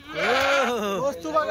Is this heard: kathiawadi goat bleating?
yes